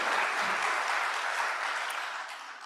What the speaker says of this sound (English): Please, a big round of applause for Dr. Yende.